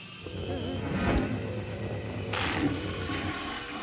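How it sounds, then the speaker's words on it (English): A toilet flushing in the video game Luigi's Mansion 2 HD, a steady rushing gurgle of water lasting several seconds over game background music, with a second surge partway through. "Flush successful."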